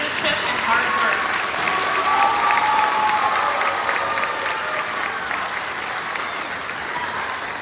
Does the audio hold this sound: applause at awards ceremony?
yes